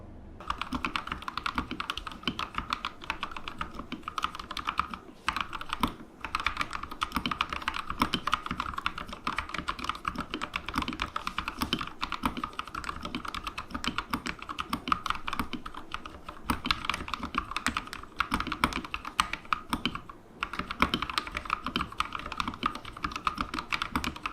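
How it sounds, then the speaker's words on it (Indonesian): Someone types steadily on a Rexus keyboard fitted with lubed Gateron Yellow KS9 switches, a dense, continuous clatter of soft, muted keystrokes, close up with only brief pauses. "dengerin dulu nih suara si KS9 Yellow yang udah di loop di M84 Pro gua"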